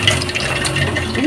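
Cooking oil is poured into a frying pan, making a soft, continuous liquid pour and splash that is close and moderately loud for about a second.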